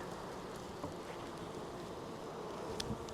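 Honeybees hum steadily from an opened hive during a hive expansion, a dense, continuous buzzing close by with no talk over it.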